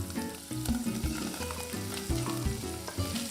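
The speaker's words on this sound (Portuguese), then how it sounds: "Agora nós vamos dar uma fritada. Vamos deixar fritar um pouquinho" Desalted salted beef and strips of calabresa sausage sizzle in a pan, a close, steady crackling fry with soft rhythmic pops and no talking.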